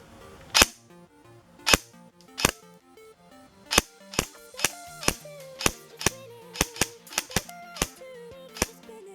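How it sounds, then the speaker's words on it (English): An airsoft gun fires about fifteen sharp, separate shots at a lower face mesh mask, the cracks spaced irregularly and standing out clearly against a quiet background. "we'll see how much damage an airsoft gun can do to a lower face mesh mask"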